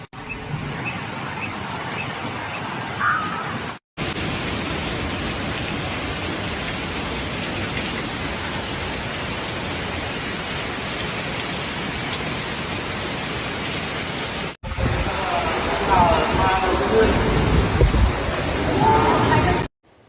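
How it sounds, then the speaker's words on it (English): Heavy rain pours down during a powerful storm with level 12 winds in Guangdong, China, a loud, dense and steady hiss of water that fills the whole clip, with abrupt cuts between stretches of downpour. "Rainfall intensity increased sharply in many districts, with short-duration but high-intensity rain bands causing sudden water accumulation on urban roads"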